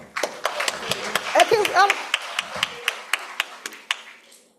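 Scattered hand claps at an international conference on ECOWAS at 50, a dozen or so distinct sharp claps spaced unevenly, with a voice speaking briefly under the first few before they thin out and stop.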